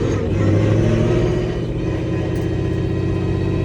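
A deep engine rumble swells as a Mercedes C63 pulls away on a track, low and throaty, with a steady growl that eases slightly after the first couple of seconds.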